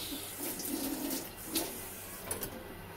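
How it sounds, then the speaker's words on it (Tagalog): Radish simmering in a pot of sinigang shrimp broth, a soft, steady bubbling and watery churn with a few brief splashy pops, close and moderately loud with no talking. "After 1 minute, kulo na yung ating radish."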